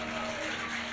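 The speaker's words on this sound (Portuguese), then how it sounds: "Aplauda Ele por isso." A church congregation applauds in a steady, fairly faint wash of clapping during a worship service, with a sustained tone humming underneath.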